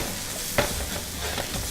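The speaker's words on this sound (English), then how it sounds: "Add some paprika, and you fry it for a few seconds just to release its aroma." Paprika fries in hot oil in a pan for paella, giving a steady close sizzle with a brief scrape of stirring near the middle and no voices.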